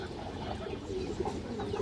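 A large, foot-long pigeon coos in soft, low, repeated calls, close by, against a steady background hum.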